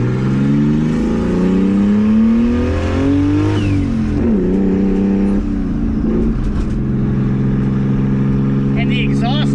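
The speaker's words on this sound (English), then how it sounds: "the exhaust note is way different with the hood exit versus exiting out the rear" A wide-body R32 Nissan Skyline's engine revs up and down close by, with a deep, throaty exhaust note, exiting through the hood, rising and falling while people talk over it.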